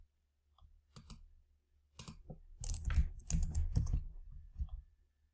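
Typing on a computer keyboard to enter text into a browser, irregular bursts of close clicking keystrokes that pick up into a quicker flurry and then trail off.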